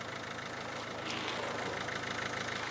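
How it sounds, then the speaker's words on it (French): A repaired car engine running at idle, a steady low rumble with a fine rhythmic pulsing that holds throughout, close and alone without voices. "La voiture en marche."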